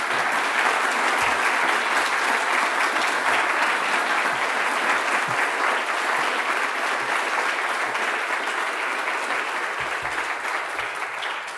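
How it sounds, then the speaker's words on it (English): An audience at a graduation ceremony for a diploma programme applauds the string quartet of the University of Vienna orchestra, with sustained dense clapping that tapers slightly toward the end. "Give a big round of applause to the string quartet of the orchestra of the University of Vienna."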